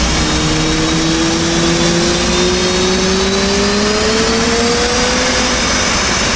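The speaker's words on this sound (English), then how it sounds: "Shift home now to start up your right engine." An F/A-18C Hornet jet engine spooling up during a cold start in DCS World, a loud, sustained roar with a whine that rises slowly and steadily, alone with no talk.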